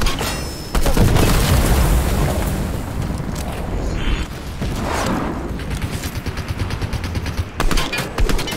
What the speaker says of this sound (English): Oh, it exploded.